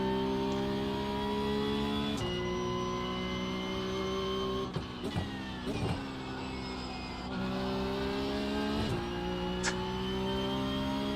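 A Porsche Carrera Cup race car engine at Imola in a racing video game drones loudly and steadily, with several quick dips and rises as the gears shift.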